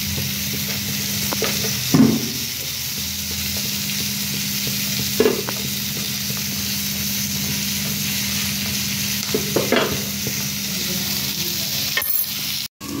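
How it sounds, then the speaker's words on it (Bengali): Ivy gourd stir-fry and roti cooking in pans give a loud, continuous sizzle with a low steady hum underneath. A few brief stirring scrapes and clinks break through now and then. "বন্ধুরা দেখো এইভাবে কুঁদরি ভাজি চলছে এদিকে,"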